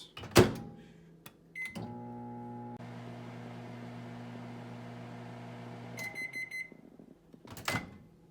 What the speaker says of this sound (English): we're going to pop this bad boy in the microwave for